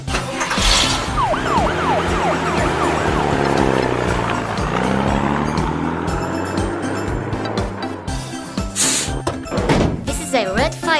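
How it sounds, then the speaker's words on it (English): A cartoon fire truck siren in a kids' show wails in rising and falling sweeps over bright music, with a narrator's voice speaking alongside. "This is a red fire truck."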